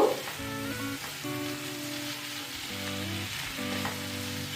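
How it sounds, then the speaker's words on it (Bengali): Potatoes and beans with spices being mixed in a frying pan: a loud continuous sizzle and crackle with scraping strokes of a spatula, close and steady, no talking. "মশলাগুলোর সঙ্গে আলু বিনসটাকে আমি ভালো করে মিশিয়ে নিচ্ছি"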